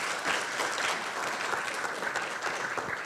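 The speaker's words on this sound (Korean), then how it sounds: "다시 한번 수고해 주신 정민재 팀장님께 큰 박수 부탁드리겠습니다." Audience applause at a Korean cinema forum: a dense, steady wash of many hands clapping that fills the room, sustained at even loudness throughout with no speech over it.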